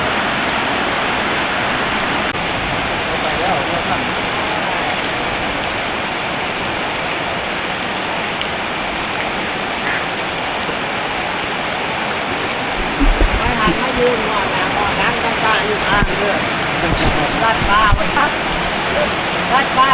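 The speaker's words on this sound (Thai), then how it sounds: "ฝนตกเนาะ" Steady rain falls hard and evenly throughout, a dense close hiss that gets somewhat heavier toward the end.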